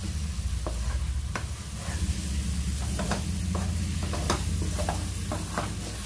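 A thick homemade lehyam stirred in a pan over the heat, a steady close sizzle and scrape with repeated spoon strokes throughout, no talking.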